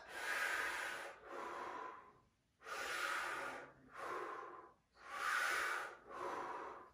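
Deep, forceful breaths during a neck-turning fascia exercise, drawn in and pushed out in a steady cycle of three full breath pairs, close and loud in a quiet room.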